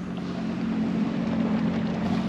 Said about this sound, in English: check a few things over before I start the engines up